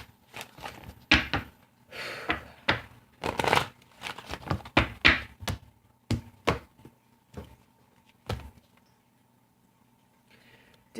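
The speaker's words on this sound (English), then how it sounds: "Alright, 2 more shuffles." Messenger Oracle cards shuffled by hand in a series of close, papery riffling bursts, with a short quiet pause near the end and no talking.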